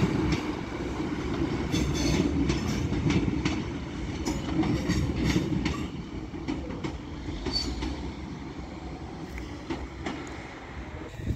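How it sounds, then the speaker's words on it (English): An Avanti West Coast Class 390 Pendolino rolls into Stockport station on the West Coast Main Line, a steady low rumble of wheels on track with faint clicks and squeals, moderately close and sustained. "Now coming in is a Avanti West Coast Class 390 Pendolino running from London Euston to Manchester Piccadilly."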